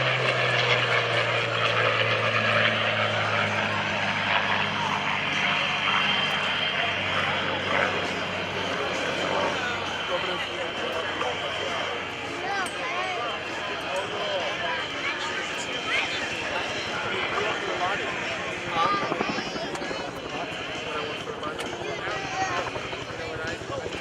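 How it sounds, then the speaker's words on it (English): A Yak-9 and an L-39 roar past together in a slot pass at a military open house airshow, a loud sustained engine drone with a shifting pitch that fills the whole stretch, while an announcer talks over it. "From the left, the Yak-9 and the L-39 and the slot pass."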